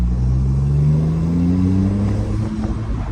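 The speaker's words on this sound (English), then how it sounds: "You do enjoy the sound of the V6, which despite being a V6 sounds quite nice, and with it comes the sound also of the twin turbos" Maserati twin-turbo V6 accelerating from inside the car, a steady close engine drone with rising pitch as it pulls, continuous and fairly loud with no talk over it.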